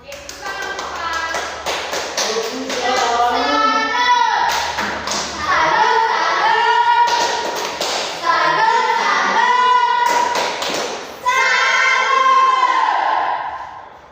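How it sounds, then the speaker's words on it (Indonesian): Students in a classroom clap for a speaker, sharp, steady claps and thumps repeating for many seconds, close and loud, with children's voices calling out over the clapping. "Oke, tepuk tangan untuk Pak."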